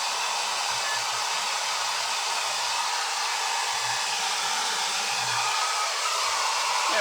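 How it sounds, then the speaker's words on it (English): A hair dryer blows steadily at close range to dry paint on rice paper decoupage on a bottle. It gives a loud, unbroken whooshing roar with no talking. "Oh, I got paint on my dryer."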